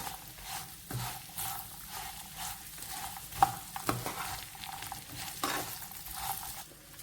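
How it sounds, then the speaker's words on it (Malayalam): A cornflakes mixture with dates is stirred in a pan, giving a continuous dry rustling scrape with occasional sharper knocks against the pan. It is moderately loud and close, with no voices. "നമുക്ക് നന്നായിട്ട് ഇളക്കി യോജിപ്പിക്കാം"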